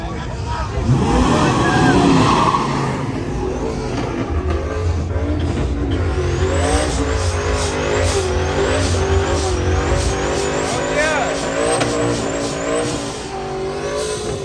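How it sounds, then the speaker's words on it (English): A turbocharged car at a car meet revs hard and loud nearby, the engine climbing and holding while a turbo whistle and flutter repeat, with people talking over it. "I hear that turbo."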